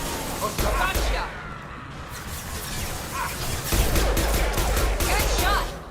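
Dense, continuous gunfire and explosions from a Mass Effect battle fill the whole stretch, with overlapping bursts, crashes and whooshes at steady loudness and game voices shouting beneath.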